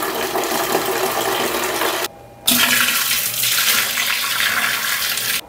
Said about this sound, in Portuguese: Vou jogar mais um pouquinho de água.